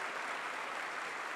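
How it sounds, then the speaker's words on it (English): A brief burst of dense audience applause at a students' conference hall, a steady wash of many hands clapping together, loud and uniform with no voices standing out. "Don't you think they deserve a huge round of applause for the love and affection?"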